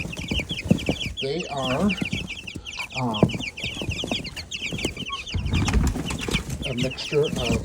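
Backyard hens, including Jersey Giants, cluck and squawk close by in busy, overlapping bursts, with someone talking over them for much of the time.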